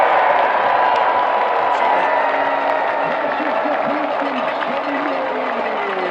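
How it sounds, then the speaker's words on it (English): Crowd noise from a packed house at a 2017 high school football game between Eisenhower and Roseville, with a loud student section: a steady, dense roar that holds throughout, with a commentator's voice running over it. "You can hear the crowd from the Eisenhower faithful."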